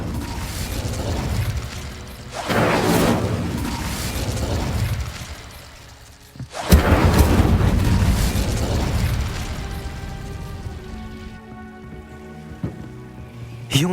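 Spell explosions go off in the Hogwarts Legacy video game, several booming bursts with crackling debris and a loud sharp blast midway, followed by lighter mechanical tinkling sounds.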